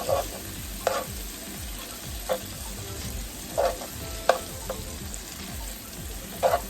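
Butter sizzles in a hot pan while a savory seven-grain bowl is cooked, with a steady frying hiss under scattered clinks and scrapes of a utensil stirring. No one speaks.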